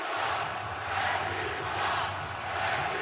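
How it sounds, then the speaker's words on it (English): A basketball arena crowd in Indianapolis during an NBA playoff game between the Indiana Pacers and Oklahoma City Thunder, a dense, loud roar of many voices swelling and easing throughout, with no clear single speaker. "Crowd not happy, but Indiana still up big"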